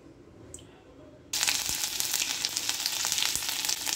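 Nigella seeds hit hot oil with a sudden loud crackling sizzle that keeps bubbling steadily at close range, with faint background noise before the burst.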